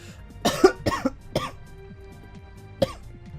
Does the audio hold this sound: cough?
yes